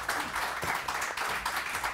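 Studio audience applauding on a morning television show, a steady wash of many hands clapping together, moderately loud and even throughout.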